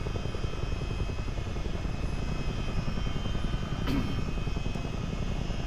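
A CH-47D Chinook twin-rotor helicopter cruises steadily in a flight simulator, its rotor chop and turbine whine forming a continuous, loud, close-up drone with no voices.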